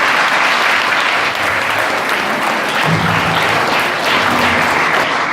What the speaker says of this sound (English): give yourself a round of applause for the amazing march past you did and for the great performance you have done so far